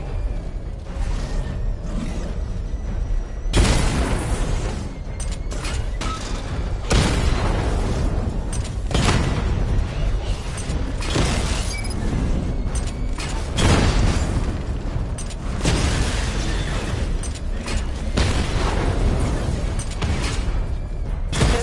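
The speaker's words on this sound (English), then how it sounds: "Charge up missile barrage to level 2 and destroy 4 active targets to complete diagnostic test" Video game missile barrage slamming into targets, heavy booming blasts in several bursts with whooshing launches and mechanical clatter between, loud and close.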